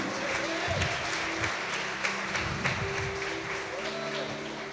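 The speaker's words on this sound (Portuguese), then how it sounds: "Você pode dar um forte aplauso ao Senhor de Jesus?" A church congregation at a worship conference applauds steadily with dense, sustained clapping that sounds moderately distant and reverberant, with faint voices and a low tone underneath.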